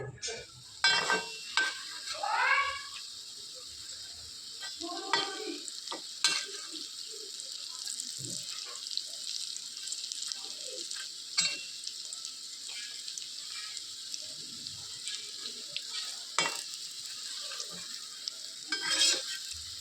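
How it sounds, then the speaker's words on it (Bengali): Vegetable fritters (bora) fry in a home kitchen pan with a steady hiss of oil and occasional stirring and clinks of utensils, moderately close, with brief faint voices in the background. "নিরামিষের দিন একটু বড়া ভাজা এই জিনিসগুলো একটু ভালোই লাগে খেতে"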